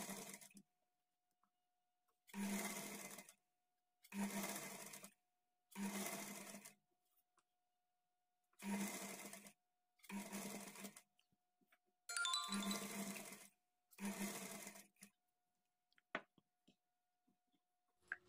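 A sewing machine stitches a blouse piece in eight separate runs of about a second each, with short pauses between them. It is close and steady, with no talking.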